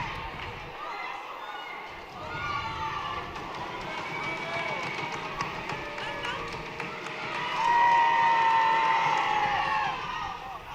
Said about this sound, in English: and fans cheer